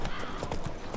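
Horse hooves clip-clop briefly in the Witcher 3 video game, a quick run of loud, close, rhythmic hoofbeats on a hard surface.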